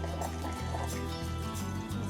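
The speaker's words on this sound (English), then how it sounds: "Let's see if I can show you the water dripping in there." Water dripping and trickling inside a Bonavita BV1800 coffee maker while brewing, close up, with a steady liquid patter over a low mechanical hum.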